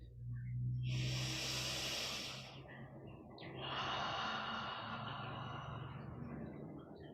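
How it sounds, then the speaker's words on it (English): Slow, deep yoga breathing heard close up as two long, airy breaths, each a steady hiss lasting a few seconds with a short pause between. "Breathe deeply."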